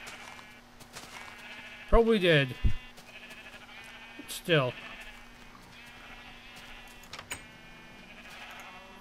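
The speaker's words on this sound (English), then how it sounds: "And so back to shearing the gray sheep." Sheep in Minecraft bleating while being sheared with shears, two distinct wavering bleats a few seconds apart, clear and close, with a person talking quietly in between.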